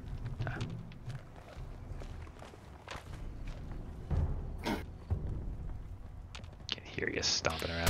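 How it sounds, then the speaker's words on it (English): Heavy footsteps stomp around in Fallout 76, a steady run of thuds and clicks under game ambience, with a louder burst near the end. "Can hear you stomping around out there."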